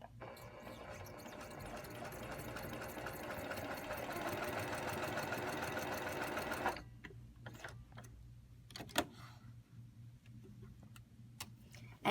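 A sewing machine stitches pieced bias strips of fabric with a fast, even mechanical chatter for nearly seven seconds, then stops, followed by faint clicks and handling sounds close by.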